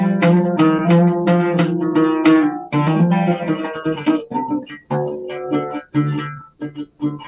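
An Arabic stringed instrument is played solo with quarter-tone inflections: a run of quick plucked notes, then a slower phrase of separated notes with gaps between them, heard clearly with no talk.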